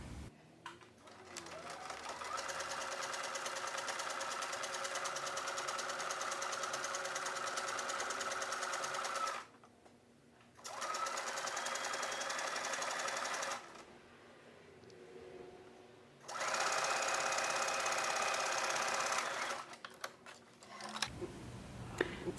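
A sewing machine with a twin needle stitches a hem on knit stretch lace fabric, running in long steady whirring bursts separated by short pauses, close-up and continuous with no talking over it.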